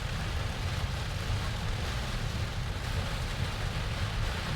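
Heavy rain pours steadily over a Tesla Model X during a drive, a dense, even roar of water drumming on the car with no talk over it.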